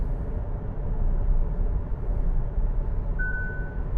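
A single short warning beep from a Hyundai Ioniq 5's driver assist, raised when the wheel went untouched too long on tight curves, sounds once near the end over a steady, loud rumble of road and cabin noise.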